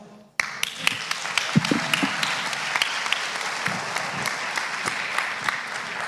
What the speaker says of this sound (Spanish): ese aplauso que nos han dado a nosotros deben dártelo a ti